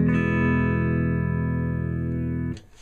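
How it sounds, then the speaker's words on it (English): Clean electric guitar played through a Behringer Vintage Tube Monster pedal, a single sustained chord ringing evenly for over two seconds before being cut off abruptly. "Here's the clean sound."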